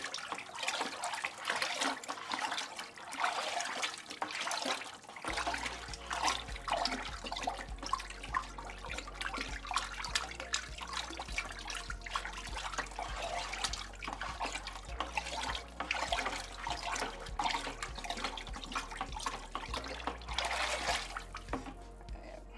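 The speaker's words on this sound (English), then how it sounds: "Let's stir this up." Stick stirring a bucket of pottery glaze in a ceramics studio, making a continuous wet sloshing and swirling that is fairly faint and steady throughout, with a low background hum and no clear voices.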